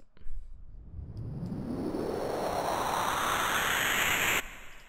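A synthesized noise sweep made in Serum rising steadily in pitch, washed in reverb, swelling for several seconds before cutting off abruptly.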